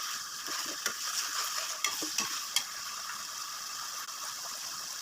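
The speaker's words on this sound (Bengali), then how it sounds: "হালকা করে ভেজে নিচ্ছি প্রথমে।" Chopped onion and ginger-garlic paste fry in a pan for a beef biryani, giving a soft, steady sizzle with occasional scraping stirs.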